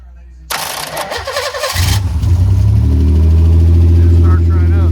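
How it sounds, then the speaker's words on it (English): A 1988 Pontiac Fiero GT 2.8L V6 is cranked by a screwdriver bridging the starter solenoid: a brief sharp whir of the starter, then the engine catches and settles into a loud, steady close idle. "And if I use a screwdriver, it'll start on the starter"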